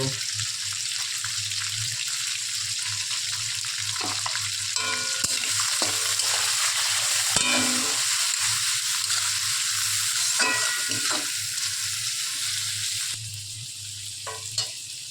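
Frying in a pan with turmeric and salt for a prawn dal, a loud, continuous hissing sizzle with scattered scraping stirs throughout, close up, easing slightly near the end.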